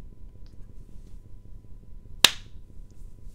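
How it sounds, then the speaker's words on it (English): A single sharp hand clap stands in for a fake smack, one crisp close snap that rises briefly above a quiet low background hum. "That was the worst fake smack ever. I told you not to clap."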